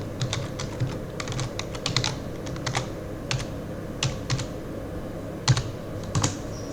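Someone types a password on a computer keyboard while logging into a server through PuTTY: close, crisp keystrokes in short irregular bursts with pauses between them and no talking.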